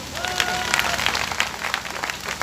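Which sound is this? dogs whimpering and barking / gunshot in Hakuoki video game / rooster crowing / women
women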